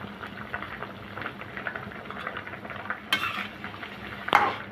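Prawn curry with yardlong beans and potatoes bubbles and sizzles in a pan, with soft stirring and occasional utensil clinks against the metal, close and steady without talk.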